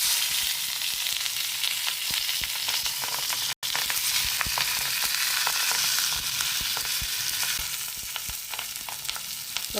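Pearl spot fish wrapped in banana leaf frying in a little coconut oil in a pan, a steady close sizzle with crackling pops running throughout, nobody speaking.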